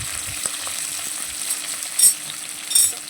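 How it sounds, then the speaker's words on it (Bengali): Prawns sizzle in hot oil in a pan for a curry, a continuous crackling hiss with occasional sharper spits and pops, close and moderately loud, with no talking. "তেলটা আমার গরম হয়ে এলে আমি ওর মধ্যে চিংড়ি মাছগুলো দিয়ে ভেজে নেব"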